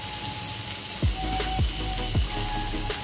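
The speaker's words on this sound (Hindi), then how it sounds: "इसको हमें हल्का सा फ्राई करना है, ज्यादा ब्राउन मैं इसको नहीं करूंगी।" Chopped onion fries in hot oil in a kadai while cooking kadai paneer: a steady crackling sizzle runs throughout, broken by a few short scraping sweeps at regular intervals.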